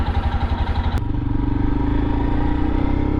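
A 2022 Royal Enfield Himalayan single-cylinder motorcycle idles with a steady, loud thumping beat, then the engine note shifts and rises slightly as the rider pulls away to set off on a ride.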